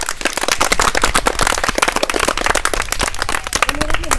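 A crowd claps together at a village social awareness rally, a loud, dense, fast patter of hands that keeps going throughout, close and crackling like firecrackers.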